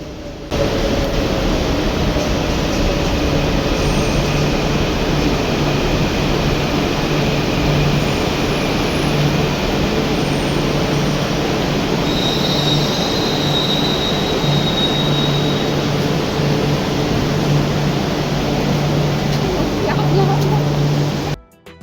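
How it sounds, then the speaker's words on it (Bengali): A metro train approaching a station platform during a heavy downpour, a loud steady rumble and wash of noise lasting throughout, mixed with pounding rain. "এই যে ওইদিকে ট্রেনও আসছে"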